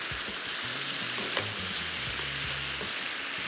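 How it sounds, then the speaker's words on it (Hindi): Chicken pieces frying in sauce for coconut or honey chili chicken, a dense continuous sizzle up close with a few soft stirring scrapes underneath. "तो इसको थोड़ा सा फ्राई करते गए"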